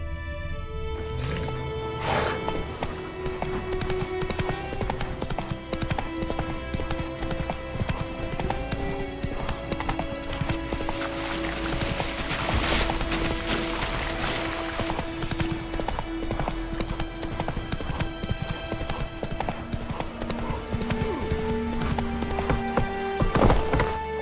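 Hooves of Geralt's horse Roach in The Witcher 3: Wild Hunt, a steady rhythmic clip-clop of galloping over a background of orchestral game music, with an occasional snort or whinny.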